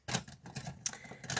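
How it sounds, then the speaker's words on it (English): Scissors snip open tightly sealed card-craft kit packaging, giving a few sharp, close cuts and crinkles in quick succession with no talking. "Just grab a pair of scissors. I find they package these up quite tightly. So I'm just going to snip that open"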